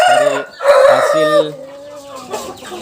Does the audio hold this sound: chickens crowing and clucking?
yes